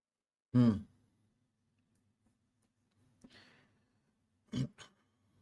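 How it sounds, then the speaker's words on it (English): A single short cough sounds close by, followed by a faint throat noise and then a quick double cough a few seconds later. "Let me cough."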